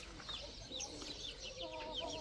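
Several chickens cluck and chatter softly at close range, overlapping short calls in a busy, continuous stream.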